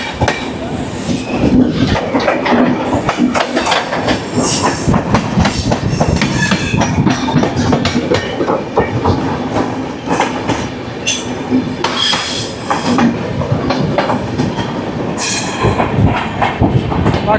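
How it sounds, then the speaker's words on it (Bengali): Rajendranagar–Howrah Superfast Express passing close by, a loud, steady roar of rolling carriages with clickety-clack wheel rhythm and occasional high wheel squeal, continuous throughout. "পাটনা সাহিব বেরোচ্ছে রায়নগর হাওড়া সুপারফাস্ট এক্সপ্রেস, আর এর সঙ্গে আমাদের দেখা হয়ে গেল"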